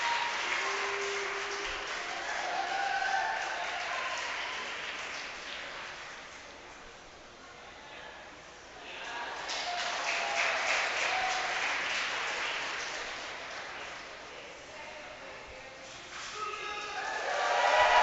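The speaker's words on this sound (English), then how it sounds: "Big round of applause." Crowd applause for climbers at a provincial bouldering finals, steady clapping rising and falling in waves over the whole stretch, with voices faintly mixed in and a fresh swell near the end.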